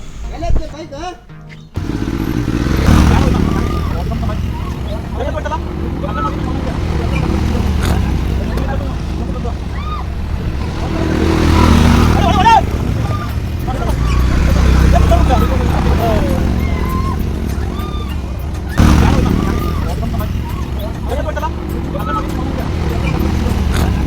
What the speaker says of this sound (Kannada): ಟಿಫನ್ ಮುಗಿಸ್ಕೊಂಡು 4 ವೀಲರ್ ಬೈಕ್ ರೈಡಿಂಗ್ ಹೋಗೋಣ ಅಂತಬಿಟ್ಟು ನಾನು ಹೊರಟೆ